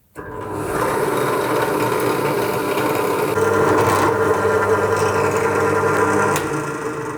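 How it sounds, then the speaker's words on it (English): A drill press bores small holes in a homemade bird cage tool for motorcycle control cables, a loud continuous whirring grind under steady load that rises slightly midway, close up and without talk. "That is the 3 small holes drilled."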